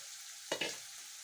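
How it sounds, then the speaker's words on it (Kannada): White bitter gourd, already fried, drops into a hot pan with a couple of quick clatters and then bursts into a short, loud sizzle that fades to a steady low frying hiss. "ಈಗ ಹುರಿದಿರೋ ಹಾಗಲಕಾಯಿ ಹಾಕ್ತೀನಿ ನೋಡ್ರಿ."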